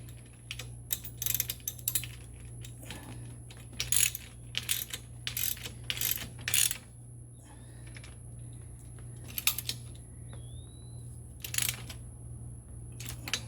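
Half-inch bolts on a Trac Seats suspension seat kit being tightened on a Z920m mower, a string of close, sharp metallic ratchet clicks in short bursts over a steady low hum.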